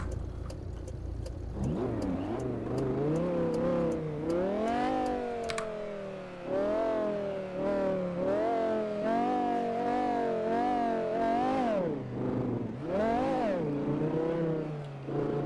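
A V10 car engine in the GTA 5 video game revs steadily on a drive through hills. The pitch climbs and falls repeatedly through gear changes, and the sound is continuous and moderately loud with faint key clicks underneath.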